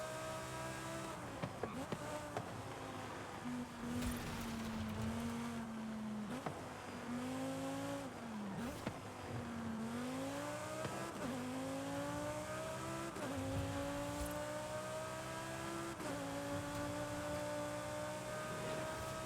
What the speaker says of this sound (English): Someone's driving the Huera.